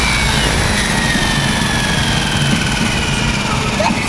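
An Align Trex 550 RC helicopter drivetrain keeps spinning after landing, a loud, steady mechanical whir and hum with no breaks.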